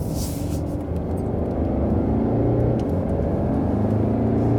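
Mercedes GLC Coupé AMG line with 4MATIC and a 9-speed automatic, accelerating hard under kick-down: a steady, heavy engine rumble heard from inside the cabin, rising slowly in pitch and holding constant loudness.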